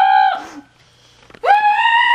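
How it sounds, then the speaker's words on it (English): A goat gives two loud, close bleating screams, one brief and one longer and rising, separated by a short quiet gap. "screaming goat"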